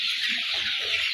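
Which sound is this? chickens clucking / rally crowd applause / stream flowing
chickens clucking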